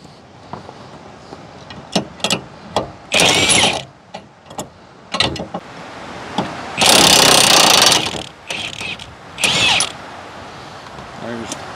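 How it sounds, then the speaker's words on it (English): A heavy air impact wrench, the kind used on 18-wheeler lug nuts, removes nuts from a Gen-Y weight distribution hitch setup, firing in several loud, broadband bursts of a second or so, mixed with short clanks and quieter pauses. "This is the same impact I used to use to take the lug nuts off of my 18 wheeler"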